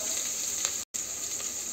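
Onion, ginger, garlic and turmeric fry in hot oil for a chicken curry, a steady close sizzle with light stirring touches and one brief cut to silence midway, without talking.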